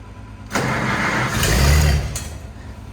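A car engine cold-starts in freezing weather at minus three degrees, half choked: quiet at first, then it fires abruptly and swells into a rough, loud idle that rises briefly before settling, heard up close.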